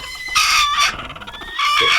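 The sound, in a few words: chicken clucking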